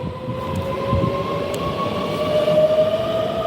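A train pulls away from a station with a loud, steady rumble of wheels and a rising electric whine, close by and continuous, with no voices.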